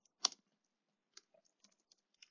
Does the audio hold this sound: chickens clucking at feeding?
no